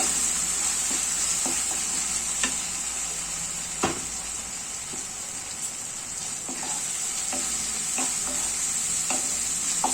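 Chicken curry frying in a pan with chili powder added, a steady close sizzle and hiss with scattered scraping clicks of a spoon stirring through it, no talking.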